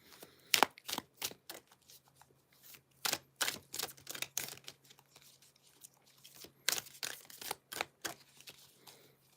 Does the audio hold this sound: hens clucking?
no